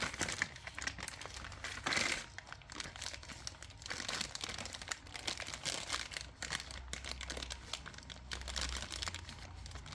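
Plastic bag packaging crinkles and rustles steadily up close while a hard-water shower filter softener is unboxed, with dense continuous crackling and a brief louder crumple near the start.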